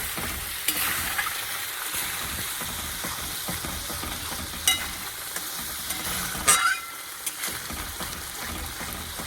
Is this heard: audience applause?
no